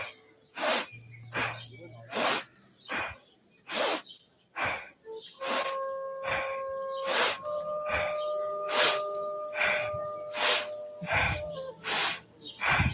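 Strong rhythmic breathing during a live outdoor morning yoga flow in a park: forceful, evenly spaced breath bursts repeat a dozen or so times, with faint birdsong and tonal background sounds between them.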